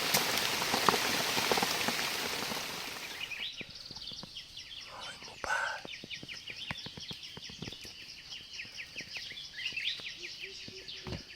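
Rain falls in a forest, a broadband hiss that is heavy at first, then eases into lighter patter and scattered drips, with faint bird chirps in the background.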